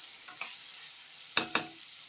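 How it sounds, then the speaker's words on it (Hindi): Chicken with capsicum and green onion fries in a pan for shashlik, a soft, faint sizzle broken by two sharp stirring clinks near the end. "शिमला और हरी प्याज को डालकर इसमें 2 मिनट तक बस फ्राई करूँगी"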